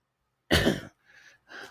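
A few little coughs from one person: one louder cough followed by two softer short coughs, close and clear against silence.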